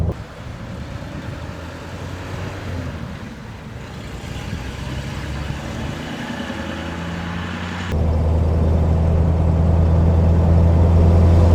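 A 1940 armoured Mercedes 770 open touring car, nearly five tonnes, drives along with a steady low engine rumble and wind buffeting, growing louder and heavier partway through as the engine works harder; no one speaks.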